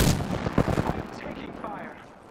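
Gunfire from Apex Legends bursts loudly in rapid, rattling shots during the opening second, then fades into quieter game ambience and a few distant pops.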